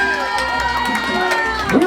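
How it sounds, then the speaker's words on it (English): A wedding crowd cheers and whoops for the bride over a busy wash of voices, lively and close, with a shout rising near the end. "let's give our bride a big round of applause"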